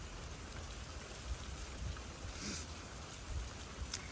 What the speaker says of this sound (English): My guess is most people appreciate this rain.